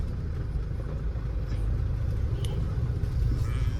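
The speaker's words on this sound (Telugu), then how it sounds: "వస్తూనే ఉంటారు బండ్లు." Steady traffic rumble from cars and heavier vehicles moving along a road, a continuous loud low drone with no distinct single pass-bys standing out.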